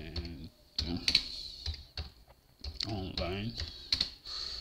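Computer keyboard typing in short bursts of quick clicks, fairly close, interleaved with a person talking in Portuguese.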